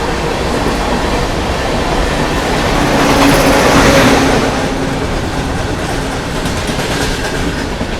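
12621 Tamil Nadu Superfast Express running at speed on rails near Itarsi Junction, a loud continuous rumbling roar with faint rhythmic clatter, heard from on board with no talk.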